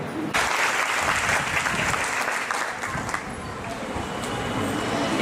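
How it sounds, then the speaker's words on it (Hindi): Audience applause at a beautician seminar in Muzaffarnagar, a steady, dense clapping from a large indoor crowd that starts abruptly and holds at full strength for several seconds. "एक और जोरदार ताली हो जाए"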